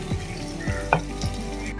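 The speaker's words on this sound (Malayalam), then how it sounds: "ചിക്കൻ ഇട്ട് ഇളക്കിയെടുക്കുക" Steady close sizzling of chicken frying in a pan, with periodic scraping strokes as it is stirred.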